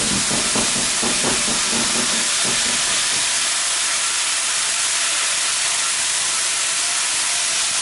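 White wine hits a hot pan to deglaze it, bursting into a loud, steady sizzle and hiss that fills the whole stretch, with brief crackling bubbling early on before settling into continuous frying noise.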